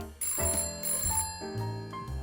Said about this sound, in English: When Charlie Brown and Sally went inside, the phone rang.